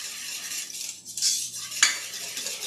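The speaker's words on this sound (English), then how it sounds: "So we'll just whisk this together." A whisk scrapes and clinks steadily through a sauce of sour cream, mayonnaise, milk, lemon juice, garlic and paprika in a bowl, a close, continuous stirring with a few sharper metallic taps and no talking.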